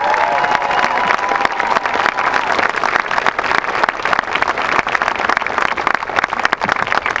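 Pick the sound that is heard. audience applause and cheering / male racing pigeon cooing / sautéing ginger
audience applause and cheering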